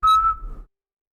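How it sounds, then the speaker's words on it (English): A factory whistle gives a single short, loud, steady tone that stops abruptly after well under a second. "The factory whistle blows."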